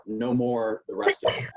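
A single sneeze bursts out during a chemistry lecture, following a stretch of talking; the sharp nasal burst stands close and loud, with speech just before it.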